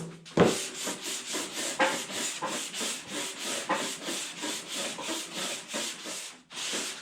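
Steady rasping strokes of a sanding block rubbing across the clear coat of a car panel in a crisscross motion, close and continuous, with brief pauses near the start and end.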